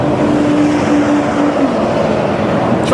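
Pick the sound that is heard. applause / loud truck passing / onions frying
loud truck passing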